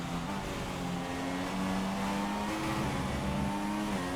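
Continuous engine drone of Formula 1 cars in the F1 2016 video game at Abu Dhabi, pitch rising and falling as they rev and pass, dense and fairly loud with no speech.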